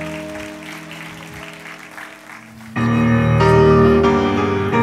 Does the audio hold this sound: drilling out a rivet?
no